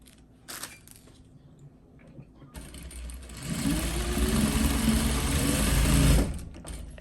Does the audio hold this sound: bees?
no